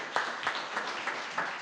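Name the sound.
congregation applauding in church service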